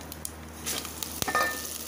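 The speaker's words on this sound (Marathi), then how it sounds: "तांदूळ आपण असं तेलात भाजून घ्यायचा चांगला" Soft sizzling and light scraping as washed rice is stirred in a pan of hot oil with asafoetida and curry leaves, with a few sharper clinks; close and fairly quiet, no voices.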